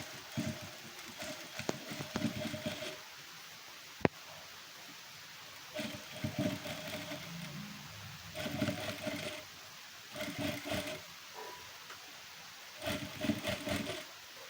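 A sewing machine stitches delicate lace along the side of a blouse, running in several short bursts of rapid clatter separated by pauses, fairly faint and close.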